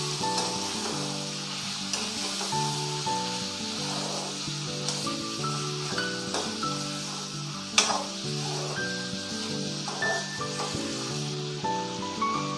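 Chicken cooking with banana flower in a sizzling pan, steady close frying hiss with stirring scrapes and one sharp clatter, over soft background music.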